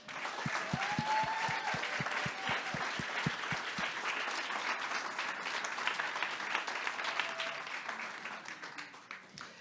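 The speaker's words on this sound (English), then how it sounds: "I want to give them all a round of applause" An audience at a photography festival keynote lecture claps for the board of directors, with a broad, sustained round of applause that opens with a few sharp individual claps before thickening into a dense, even roar and tapering slightly at the end.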